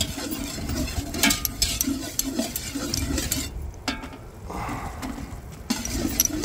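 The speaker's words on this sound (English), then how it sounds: "I'm whisking it. Took the butter, took the cornstarch, put it in there," Butter and cornstarch whisked together as an Alfredo sauce base make a brisk, repeated scraping and stirring against the pan, up close and fairly loud, with short pauses between bursts.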